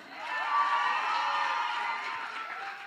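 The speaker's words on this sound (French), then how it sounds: "on peut faire un tonnerre d'applaudissements pour ça" An audience at a concert marking an inauguration cheers and whoops, a sustained crowd roar with shouted voices held steady from start to finish.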